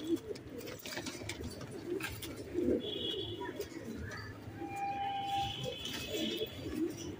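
Racer and fancy high-flyer pigeons kept for sale coo softly and repeatedly in low, rolling phrases, faint and fairly close, over quiet background noise with occasional higher chirps.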